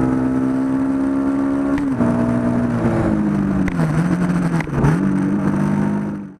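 A 2024 CFMOTO 450 MT adventure enduro motorcycle engine hums steadily up close, its pitch dipping and rising through gear changes as the bike rides off, loud and continuous with no talk.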